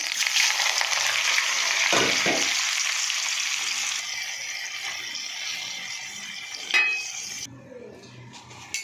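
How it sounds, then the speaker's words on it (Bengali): Paneer frying in oil in a wok, a loud close sizzle that fades partway through, broken by a few utensil clinks and scrapes against the pan near the end. "কড়াইতে তেল দিয়ে দিয়েছি, পনিরগুলো ভেজে নেব।"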